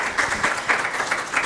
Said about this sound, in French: Je vous propose qu'on applaudisse les quatre invités très fort pour commencer.